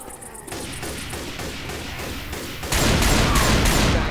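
Rapid bursts of gunfire from Left 4 Dead 2 in The Parish campaign, a dense fusillade of overlapping shots that grows louder and heavier partway through, with no talk over it.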